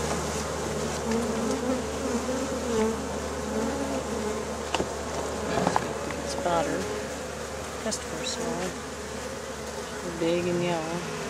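A honeybee swarm buzzing steadily and close, a dense droning hum with individual bees whining past, while a person talks intermittently over it.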